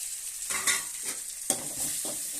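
Spice powders are stirred into mint frying in a pan for tomato rice, a close, soft sizzle broken by several scraping stirs of the spoon, with no talk.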